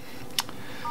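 A Samsung Galaxy Note phone keypad plays a short dialing tone as a code is typed, one brief clear beep heard close and alone, followed by a faint tone at the end.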